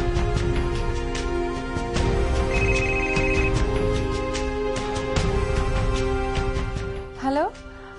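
A phone rings while a call is being placed: a repeating electronic ringtone melody keeps going for several seconds over a steady background tone, with voices speaking at times.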